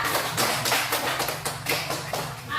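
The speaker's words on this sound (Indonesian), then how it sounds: "Beri aplaus untuk kelompok 3" A classroom group claps for a presenting team, a short burst of close, uneven hand claps without any talking.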